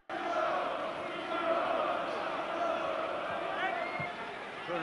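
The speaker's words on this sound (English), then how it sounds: "The crowd chanted his name." Boxing arena crowd chanting a heavyweight's name during a fight against a Swedish opponent, a sustained, roaring mass of voices with rhythmic swells, moderately distant and continuous throughout.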